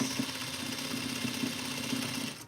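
A sewing machine stitching a duster runs steadily at close range, a continuous mechanical hum with a rapid, even rhythm and no pauses throughout.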